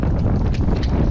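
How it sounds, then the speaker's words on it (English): Steady, loud wind buffeting a microphone, a continuous low rumble with gusty swells and no voices. "Really windy day out."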